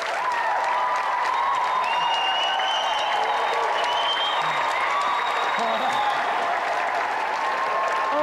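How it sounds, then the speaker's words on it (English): A large crowd applauding and cheering continuously at a televised video game contest, with shouts and voices rising over a dense, steady roar of clapping. "The crowd's going wild."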